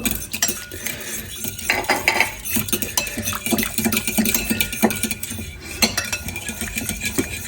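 A spoon stirs dry yeast into warm milk in a bowl while making Martinican butter bread. Close, continuous scraping is broken by frequent light metallic clinks against the bowl, with no voices.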